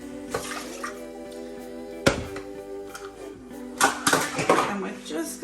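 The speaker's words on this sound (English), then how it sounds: "I'm going to add a cup full of water." Water is poured into a pot already holding sugar, with metallic pot and utensil clinks standing out against a faint steady hum.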